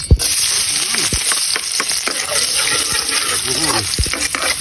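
Garlic sautéing in hot cooking oil gives a steady, close sizzle with crackling pops and some stirring, and no voice over it.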